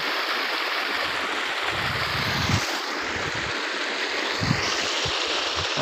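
Irrigation water runs through a Kesar mango orchard in a continuous, close rushing wash that stays even and loud for the whole stretch, with no talking.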